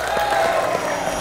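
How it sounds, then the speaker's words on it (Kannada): A studio audience on a Kannada celebrity game show claps steadily throughout a brief stretch, producing a dense, even wash of applause with no break. "ರುಚಿಗೆಡದ ಅರುಂಧತಿಗೆ ಬರಲಿ ಚಪ್ಪಾಳೆ"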